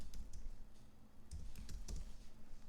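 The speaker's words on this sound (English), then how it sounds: "I'm gonna type in what it's used for" Fingers type on a computer keyboard in a quiet room, a run of light, quick clicks and taps that comes in small irregular bursts with brief pauses.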